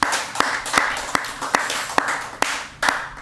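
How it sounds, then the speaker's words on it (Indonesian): An audience applauds with a dense wash of clapping punctuated by sharper, regularly spaced claps close to the microphone, moderately loud, with a voice faintly mixed in. "Tepuk tangan dulu dong."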